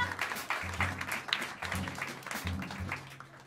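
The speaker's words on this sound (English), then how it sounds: "Please bring your hands together and give a warm round of applause for the great Marty Kenny on the upright bass" A jazz club audience at Smalls claps for an upright bass player, with dense, close applause filling the short moment alongside lingering low tones and a voice partly audible underneath.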